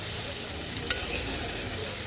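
Spice paste being stir-fried in a pan for a Bengali curry, a steady low sizzle with a single brief scrape of the spatula partway through.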